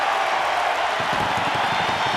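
A packed college wrestling arena crowd of some 16,000 roars continuously after a takedown in a 184-pound Ohio State versus Penn State bout, a sustained, dense wall of cheering with no pauses.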